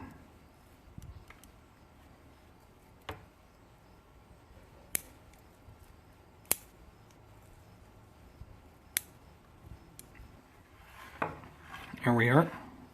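Sharp snips of pruning shears cutting side branches on a lemon cypress tree, a few isolated clicks scattered over about thirteen quiet seconds, with a louder rustle and handling noise near the end.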